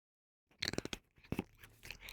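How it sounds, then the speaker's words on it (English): A cat crunches dry food close to the mic, a quick run of sharp, crackling bites with a short pause before more chewing. "do you like the cat crunching or no?"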